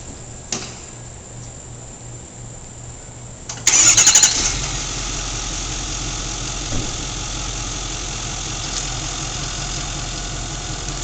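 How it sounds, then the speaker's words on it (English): An HM5 winch motor switching on with a sharp burst, then settling into a steady, loud mechanical hum and whir that runs continuously, with no speech. "Turn the motor on."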